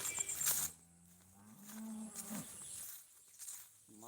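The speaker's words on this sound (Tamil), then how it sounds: "மாடு மேய்ஞ்சிட்ருக்கு." Native and Seema breed cattle graze on a farm, one low drawn-out moo sounding fairly near amid faint insect chirps and outdoor ambience.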